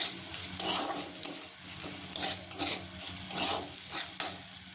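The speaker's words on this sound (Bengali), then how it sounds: "মুগ ডালটা এবার ভালো করে নাড়াচাড়া করবো" A spoon scrapes and stirs through mung dal sizzling in a pan, in irregular strokes over a soft steady frying hiss, close up.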